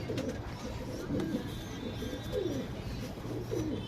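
Domestic Chini pigeons of an old lineage coo in repeated low, throaty rolls, close by over a steady background hum.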